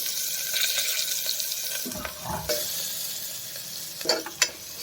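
Mustard seeds, asafoetida and finely chopped onion fry in oil with a steady close sizzle, broken near the end by a few sharper clatters.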